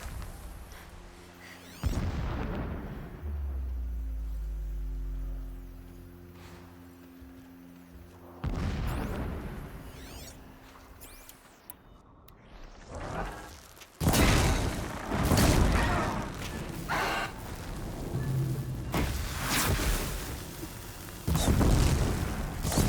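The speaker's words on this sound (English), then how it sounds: "Explosions in the distance." Distant explosions in the video game Horizon Zero Dawn come as deep, rumbling booms, two long low blasts early on and then a cluster of louder, sharper bursts near the end, with no talk.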